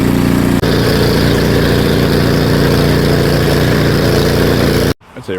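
A Craftsman snow blower engine runs loud and close with a steady throbbing drone, briefly dipping early on, then cuts off abruptly near the end.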